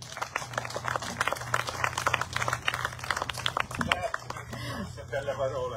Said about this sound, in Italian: Accogliamo con un grande applauso